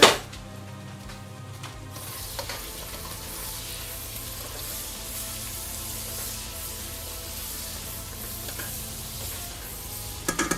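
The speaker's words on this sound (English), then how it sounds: "Stir that onion mixture." An onion mixture for vegan jambalaya sizzles steadily in a pan while being stirred, a continuous close frying hiss with faint scraping strokes and a few clicks near the end, no talking.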